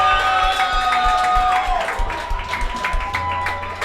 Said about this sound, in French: On peut-tu donner une petite main d'applaudissement à Simply pour l'organisation de la soirée d'Anby Comber?